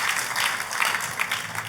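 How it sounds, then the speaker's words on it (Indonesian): A church congregation claps for God in a brief, dense burst of applause that stays fairly even and loud throughout. "Tepuk tangannya yang paling meriah buat Tuhan kita"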